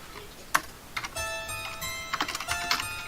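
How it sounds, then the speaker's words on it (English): Computer keyboard typing in quick irregular bursts of clicks, moderately close, with a steady musical tone sustained in the background. "I'm waiting for the typing"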